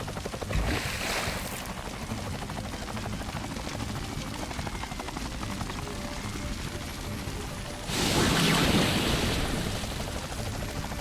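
Helicopter in Ty the Tasmanian Tiger, a chopper dropping buckets of water on fires, gives a continuous rotor drone under the game audio, with a louder surge of noise near the end.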